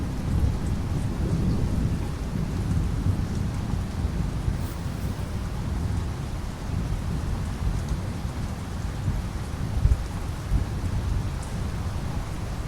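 Heavy rain pouring steadily on surfaces in the UAE during a record-breaking storm, with low rumbling thunder rolling under the dense, continuous downpour and no talking.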